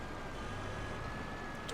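A tractor in Farming Simulator 22 strains to pull a heavy load, a steady, dense engine drone with a faint whine held throughout and no clear breaks.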